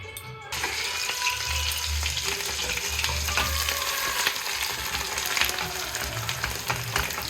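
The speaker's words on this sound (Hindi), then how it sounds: "ये कढ़ाई में घी गरम हो चुका है, अब हम लोग डालेंगे।" Mashed potato hits hot ghee in a kadai for potato halwa, setting off a loud, continuous close sizzle with faint stirring scrapes and no talking.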